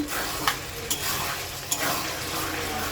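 Chicken skin frying in oil in a pan, a steady close sizzle with a few sharp clinks of a spatula stirring through it.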